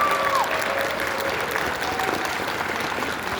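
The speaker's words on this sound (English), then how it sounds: "Let's have a round of applause for the" Crowd applause at an anime convention for the masquerade winners, a brief burst of clapping filling the hall, with a faint whistle or feedback tone at the start.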